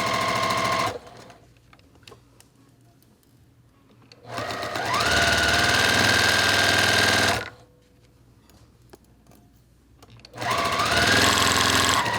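A sewing machine stitches a quilt block seam in two steady, loud bursts of motor whir with a rapid needle chatter, separated by quiet pauses, with a third run starting at the end.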